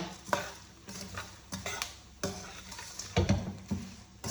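Garlic and spices frying in oil in a pan, a soft continuous sizzle broken by intermittent scraping stirs and a few louder clanks of the utensil against the pan, close up with no talking.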